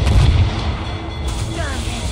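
Ship cannon fire in the naval combat of Assassin's Creed Rogue, a heavy low boom at the start followed by rumbling and distant crackling, with voices over the battle noise.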